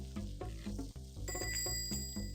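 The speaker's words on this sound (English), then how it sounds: "That bell is so nice." A bright shop bell chimes in Papa's Taco Mia over a bouncy, rhythmic music loop, its clear ringing tone entering partway through and sustaining above the beat.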